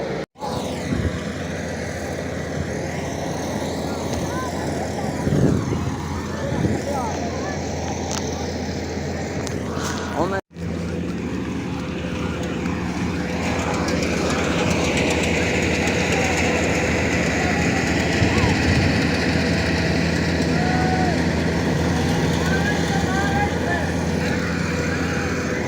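A harvesting machine cuts crop in an open field, a loud continuous mechanical roar with a steady low drone that swells and grows denser in the second half, with wind noise and voices in the background.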